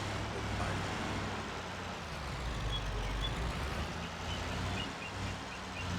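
A truck in Farming Simulator 25 reverses with beeps over a dense engine and road rumble, mid-loud and continuous with no clear gaps.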